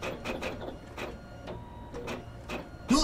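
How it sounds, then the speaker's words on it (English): Printers in The Roy Game print with a quick, regular run of mechanical clacks and whirs, about two per second, fairly close, ending in a sharper burst. "The printers have just started printing."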